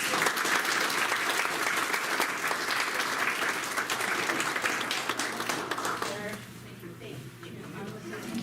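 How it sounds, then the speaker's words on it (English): An audience at a school board meeting applauds in a sustained burst of clapping that fades toward the end, with some voices mixed in. "One big round of applause."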